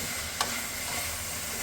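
A spoon stirs prawn roast masala in a pan, soft scraping and a low sizzle with one brief sharp clink near the start, close and fairly quiet.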